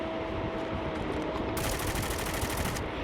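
Rapid automatic gunfire in a shooter video game with snipers and water nearby, a dense, loud burst of shots that starts partway through and keeps going over a steady background of game noise.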